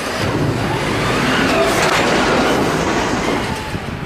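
A freight train being loaded at a rail yard, with loud continuous rolling and clattering of railcars and wheels, steady and close, with no talking.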